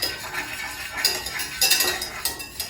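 A metal whisk beats flour into melting butter in a pan for a mac and cheese roux, quick irregular clinks and scrapes against the pan, close and alone with no voice.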